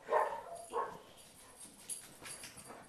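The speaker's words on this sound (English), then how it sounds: "My dogs are joining in the background" Dogs bark in the distance, two short faint barks followed by softer scattered yips and whimpers in a quiet room.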